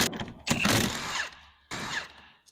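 Ring gear bolts with left-hand thread come off a differential during a 4.10 gear install. Two loud bursts of power-tool rattle and whir are separated by a short pause, and a small metallic tick sounds at the end.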